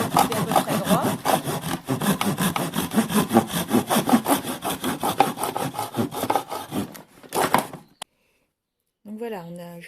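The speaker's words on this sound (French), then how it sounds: "J'ai pris une scie à onglet, une boîte à onglets." A hand saw in a miter box cuts through wood in fast, even back-and-forth strokes, stopping after several seconds; a brief voice follows in the quiet.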